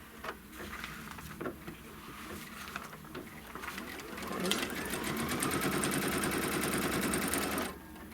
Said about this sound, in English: Then it's going to stitch the trim line.